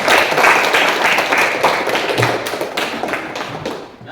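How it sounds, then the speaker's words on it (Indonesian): Children clapping in a classroom lesson on shrouding the dead, a lively stretch of many small hands, loud and close, tapering off toward the end with no talk over it. "Luar biasa, tepuk tangan anak-anak."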